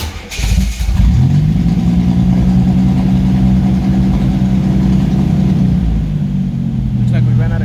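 A 1983 Regal car engine, started for the first time in years and short of fuel, idles loud and close with a steady low rumble that holds for several seconds before sagging slightly near the end.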